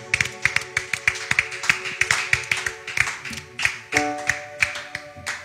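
A church congregation clapping in rhythm to praise the Lord, many hands beating a steady quick pulse while sustained music tones run underneath, moderately loud and without speech.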